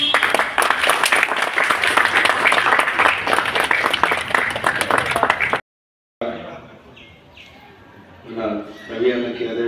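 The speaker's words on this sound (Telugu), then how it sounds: "have a big clap" A crowd at a film launch's muhurtham shot claps loudly for several seconds in dense, sustained applause, which cuts off abruptly and gives way to quieter voices talking.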